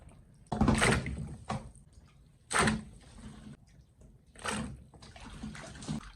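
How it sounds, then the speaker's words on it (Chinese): Hawthorn berries being washed by hand in a container of water, with several loud sloshing splashes separated by quieter trickling and dripping. "我们把山楂给它清洗2遍。"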